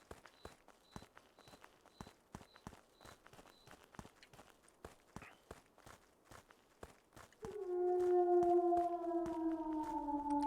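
Footsteps running after a dog in the horror video game Skinwalker Hunt, quick regular thumps with faint beeps early on, then a loud wavering siren-like wail rising in over the continuing steps.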